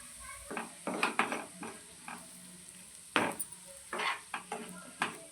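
Chili powder, coriander, cumin and turmeric powders frying in oil in a pan for paneer masala gravy, with a soft sizzle under repeated scraping and stirring clinks of a spoon against the pan, close and moderately loud.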